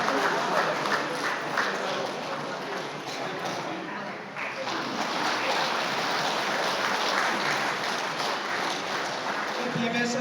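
An audience at a trade union federation gathering in Pasighat, Arunachal Pradesh, claps in steady, dense applause that fills the room without pause.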